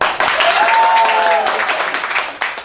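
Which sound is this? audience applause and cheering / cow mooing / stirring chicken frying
audience applause and cheering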